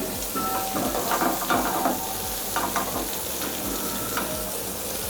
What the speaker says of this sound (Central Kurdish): لە تاوەکەیە لەگەڵ زبدەکەیە لەگەڵ کەرەکەیە سووریەکەینەوە